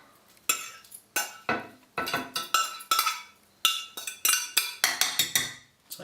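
Shredded pork for cochinita pibil being returned to the sauce in a pan: a run of close, bright metal scrapes and clinks from a utensil against the pan, in quick uneven bursts with brief pauses.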